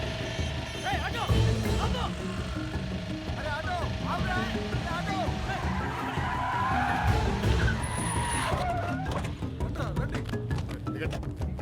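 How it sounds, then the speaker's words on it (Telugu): An auto-rickshaw driving away in a Telugu action film scene: engine whine and tire scuffing that carry steadily, with a brief screech, under people talking. "ఆటో వెళ్ళిపోతుంది."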